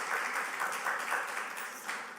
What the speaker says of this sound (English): Let's give them a better clap, please.